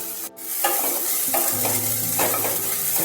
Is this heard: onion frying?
yes